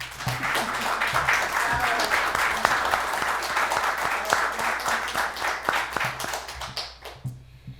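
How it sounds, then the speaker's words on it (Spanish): Enthusiastic applause from a conference audience at a Mexican Revolution anniversary event, many hands clapping steadily for several seconds before tapering off near the end. "así que doble aplauso para ella."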